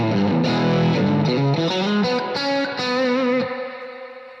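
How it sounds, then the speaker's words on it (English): An electric guitar plays a short chordal phrase through the AMP1 amplifier's clean channel, which sounds heavily compressed, with thick sustained harmonics and loud reverb. The notes ring out and fade at the end, with no voices. "So this is my clean channel. Can you listen how compressed it sounds?"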